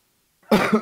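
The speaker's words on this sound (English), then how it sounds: "I have a bad cough" After a brief silence, a person with a bad cough lets out a sudden, close, harsh cough in two or three quick bursts.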